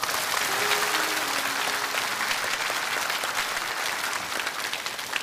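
A large studio audience at a televised lecture applauds in a dense, sustained burst of clapping that stays loud throughout and eases only slightly near the end.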